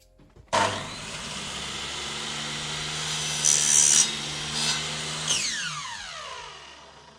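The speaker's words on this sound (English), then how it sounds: "I'm going to cut the roof a little bit longer than the sides" A single continuous cut through the roof piece of a 1/25 scale model truck body makes a steady, close rasping buzz that swells briefly a few times and then fades out at the end.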